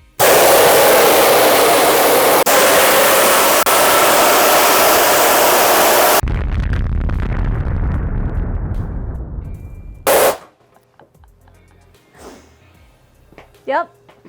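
Nitrous oxide blasting through a 1300 HP nitrous plate during a flow test: a loud, steady roaring hiss for about six seconds that cuts off and decays, then brief pops, a short burst and faint voices afterward.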